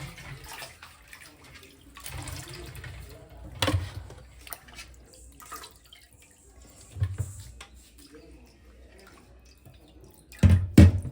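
Chicken pieces are washed in water with turmeric, with intermittent splashing, sloshing and dripping in a bowl or sink and a few louder splashes and handling knocks near the end.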